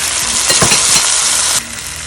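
Chopped tomatoes dropped into a hot pan of oil for palak paneer, a loud close hiss and crackle with a few scrapes, easing slightly toward the end; no talk.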